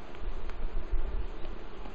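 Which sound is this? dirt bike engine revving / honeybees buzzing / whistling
honeybees buzzing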